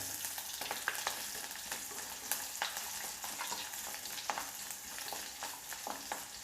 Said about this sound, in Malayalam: ഇനി ഇതിലേക്ക് ഉലുവ പൊട്ടിയതിലേക്ക് നമുക്ക് ഇഞ്ചിയും വെളുത്തുള്ളിയും പച്ചമുളകും കൂടി ഇട്ട് കൊടുക്കാം.